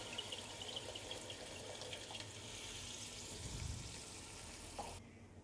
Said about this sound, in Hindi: सालन भून गया तो मैं अब इसके अंदर पानी डाल लूँगी